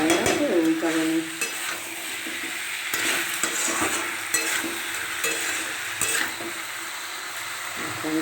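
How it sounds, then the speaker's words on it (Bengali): Young jackfruit curry is stirred and sautéed in a pan, with a close, continuous sizzle and frying crackle under repeated scraping strokes of a spatula against the metal, and no voices. "আমি কষতে লেগেছি, দেখো তোমরা। দেখো হয়ে গেল আমার এঁচোড়টা কষা।"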